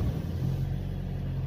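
A 2007 Toyota Innova's engine runs with a steady low rumble and idle hum, close by and continuous with no other sounds.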